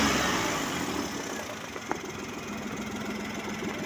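A car engine with a cracked exhaust manifold idles nearby, giving a fairly quiet, steady rumble with a fast ticking, puffing pulse from the leak and one brief knock partway through.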